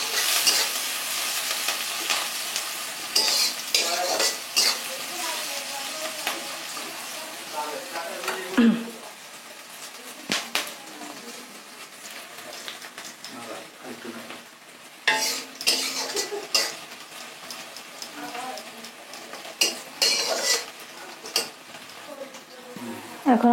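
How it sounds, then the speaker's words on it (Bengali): Chopped onions frying in a pan while being stirred, with a close crackling sizzle broken by repeated spatula scrapes and metallic clinks in irregular bursts. "এটাকে এখন আমি সুন্দর করে নেড়ে চেড়ে ভেজে নেব, বাদামি রঙের করে"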